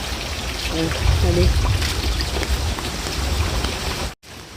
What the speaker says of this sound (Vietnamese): Ở ngoài này trời mưa lạnh